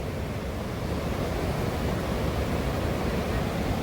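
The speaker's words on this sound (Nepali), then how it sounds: "ठुलो खोला छ यहाँ" A large river flows close by, a dense, steady rushing roar of water that stays constant throughout with no talk.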